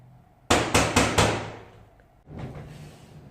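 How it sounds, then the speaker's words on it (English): Knuckles knock four times in quick succession on a window beside a front door, sharp and close with a ringing decay, followed by a softer rattle or shuffle a moment later. "I do believe I have heard a knocking on the window adjacent to my front door"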